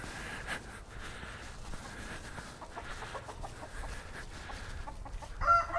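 Chickens in a backyard coop built from a dog pen with chicken wire over the top, clucking in short soft bursts and scattered calls across a quiet, faint outdoor background.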